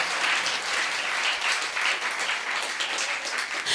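A church congregation claps steadily for nearly four seconds, a dense, even wash of many hands at close range with no talk over it.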